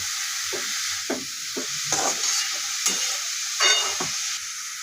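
Ash gourd curry with salt and turmeric is stirred in a pan on the stove, producing repeated scraping strokes over a soft steady sizzle, close and moderately loud, with no talking.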